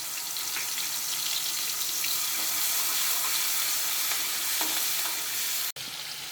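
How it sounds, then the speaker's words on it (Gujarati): Ginger, chili and garlic paste sautéing in hot oil with cumin, curry leaves and asafoetida, giving a steady close sizzle with faint stirring scrapes and a brief drop near the end. "તેમાં આપણે આદુ મરચાં અને લસણની પેસ્ટને સાતળી લઈશું"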